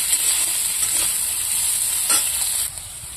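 Onions and chillies sizzle in hot oil in a pan, a steady close hiss with faint stirring scrapes, easing slightly toward the end.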